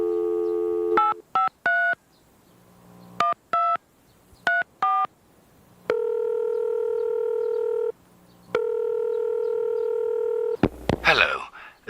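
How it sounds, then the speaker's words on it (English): In a 1998 full-motion-video thriller game, a phone call plays out as a run of touch-tone dialing beeps, then long steady ringback tones, ending with a click and a burst of noise as the line picks up. "Oh, we can hear the phone."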